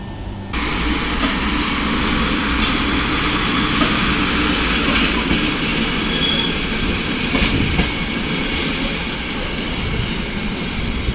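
A train without a locomotive at the other end reverses through a station in Brno, rumbling steadily past at close range, wheels grinding and occasionally squealing on the rails, with a continuous heavy roar throughout.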